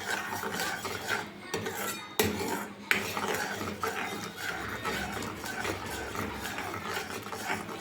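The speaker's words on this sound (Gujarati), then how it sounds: "દૂધ બળી જાય ત્યાં સુધી હલાવતા રહેવાનું છે" A spoon stirring milk in a pan as it reduces down for a sweet, with steady scraping and clinking of utensil against metal, continuous and close.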